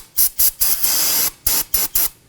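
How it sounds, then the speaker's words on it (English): Brake cleaner sprayed around the sensor mounting area on a Toyota Corolla, close and loud: a rhythmic run of short hissing bursts, one longer blast in the middle, then three more quick sprays. "We're going to wipe down the area using some brake cleaner and a rag."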